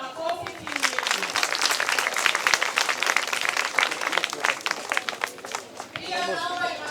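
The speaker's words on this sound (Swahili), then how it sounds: "Naomba tuwapigie makofi Finu Media." An audience at a school academic show gives a sustained round of applause with crowd noise and voices mixed in, easing briefly near the end before picking up again.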